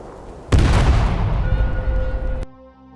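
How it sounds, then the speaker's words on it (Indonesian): A sudden loud blast at a border crossing where migrants and fighters gather erupts with a deep rumbling burst, then rolls and fades for about two seconds before cutting off abruptly. "tiba-tiba terdengar suara ledakan"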